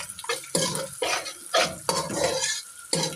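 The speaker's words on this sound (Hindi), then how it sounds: "अब हम इनको सबको डालते हैं इकट्ठा और इनको करते हैं मिक्स।" Sliced capsicum, cabbage, onion and carrot being tossed and stirred together in a pan, a series of close scraping strokes arriving in irregular bursts with short gaps between them, with no voices.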